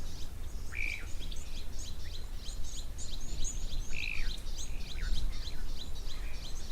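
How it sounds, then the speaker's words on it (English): Small bird calls from blue waxbills and chin-spot batises at an African waterhole, a steady run of thin chirps and short whistled notes close by over a constant outdoor background hum. "it sounds like once again the little blue waxbills and the chin-spot batters are here somewhere near to the camera"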